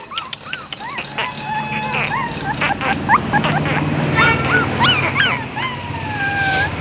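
Puppies feeding, yelping and whimpering close by in quick, overlapping high yips and whines that run throughout, with a person's voice talking in the background at times.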